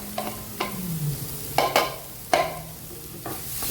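Garlic frying in a little oil makes a faint, close sizzle broken by a few sharp spatula knocks and scrapes against the pan.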